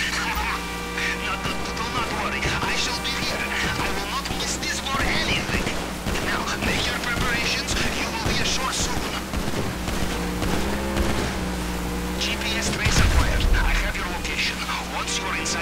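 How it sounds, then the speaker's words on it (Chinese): Fireworks crackle and burst in dense, overlapping volleys throughout a GTA V session, with one heavier low thump near the end, all set against steady game noise and people talking. "哇，自由的烟火"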